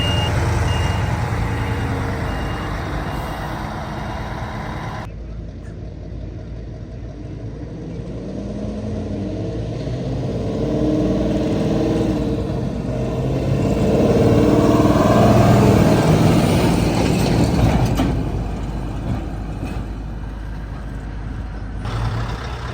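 A Scania truck at a sled pull revs hard in third and shifts up to fourth as it drags the sled down the track, a loud, steady engine roar that rises and swells toward the middle, with a reversing beep heard early on.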